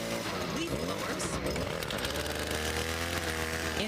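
Chainsaws cutting fallen Douglas fir trees after a storm toppled them onto homes, a steady, loud engine roar that fills the whole stretch, mixed with music and talk.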